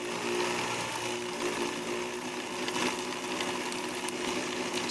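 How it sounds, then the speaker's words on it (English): Sewing machine winding thread onto a bobbin, a steady close mechanical whir with a constant hum, running smoothly and unbroken without speech. "Now I can slowly start pressing my foot pedal, and I'll watch the bobbin start winding with thread."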